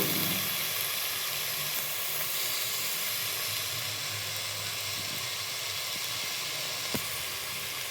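Soaked chickpeas sizzle in a hot spice tempering for chole masala, a steady close hiss with crackle running throughout, with one brief sharp tap near the end and no talking.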